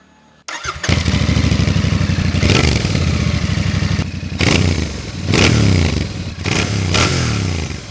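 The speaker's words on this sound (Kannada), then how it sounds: "ಎರಡು ಎಕ್ಸಾಸ್ಟ್ ಪೈಪ್ ಹೋಗಿ ಒಂದೇ ಕಡೆ ಸೇರಿ ಒಂದಾಗಿದೆ ಸೌಂಡ್ ಮಾತ್ರ ಅಲ್ಟಿಮೇಟ್ ಆಗಿರುತ್ತೆ ಸೌಂಡ್ ಒಂದ್ಸತಿ ಕೇಳ್ಸೋಣ" Royal Enfield Interceptor Bear 650 motorcycle, 648 cc twin with a two-into-one exhaust, starts up and settles into a loud, close idle, then gets several sharp throttle blips with rising revs, with no talk over it.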